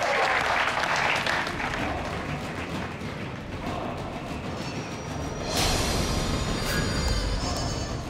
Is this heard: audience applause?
yes